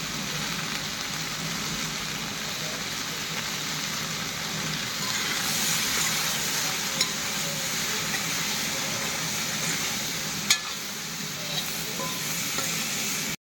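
Potatoes frying in a pan for an Assamese vegetable curry, a steady broadband sizzle with faint stirring scrapes and a couple of sharp clinks, continuous and close throughout.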